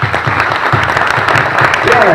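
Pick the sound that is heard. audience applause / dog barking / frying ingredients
audience applause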